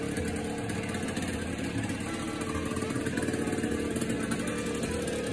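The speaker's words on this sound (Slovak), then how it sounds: "Motor má kultivovaný chod, funguje bezproblémovo." A small scooter engine, freshly repaired with its carburetor adjusted, runs steadily at a smooth idle, close and continuous with no pauses.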